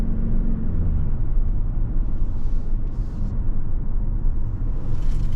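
A 2024 Toyota RAV4 Prime SE AWD, an all-wheel-drive plug-in hybrid, drives down the road with a low, steady road rumble and muted drivetrain hum heard from inside the cabin, fairly even in level with faint brief hisses.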